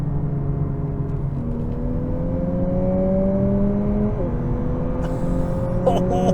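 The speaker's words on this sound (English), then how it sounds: "It's not the exhaust, but it pumps the sound through the rear speakers, and the revs are climbing" An engine hum with tones rising steadily in pitch, stepping down between paddle-shifter gear shifts, a synthetic revving sound played through the rear speakers inside a 2023 Lexus UX 250h hybrid; brief clicks near the end.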